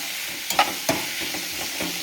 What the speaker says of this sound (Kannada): ಒಂದು ನೀರುಳ್ಳಿ ಫುಲ್ ಬ್ರೌನ್ ಆಗೋದು ಗೋಲ್ಡನ್ ಬ್ರೌನ್ ಆಗೋದು ಆ ಥರ ಮುಟ್ಟ ಫ್ರೈ ಮಾಡ್ಲೆ